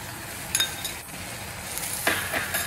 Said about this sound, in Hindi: इस मसाले को और मटर को अच्छे से मिक्स कर लें